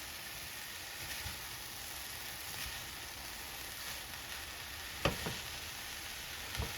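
Cabbage, broccoli and carrot sizzle steadily in a pan at low volume while being stirred, with a couple of sharp utensil clinks against the pan near the end.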